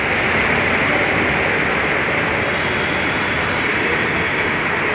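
A Bangalore metro train runs with a loud, steady broadband roar and rumble, continuous and close, as if heard from inside a moving carriage, no voices.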